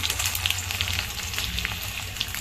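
Peanuts and cashews sizzle steadily in hot oil in a pan with curry leaves and a green chilli, a close, continuous frying crackle with no voices.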